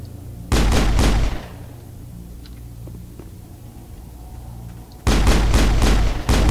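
Pistol gunfire in the video game Mass Effect: a loud burst of several rapid, sharp shots, then a lull with faint background ambience, then a second burst of rapid reports near the end.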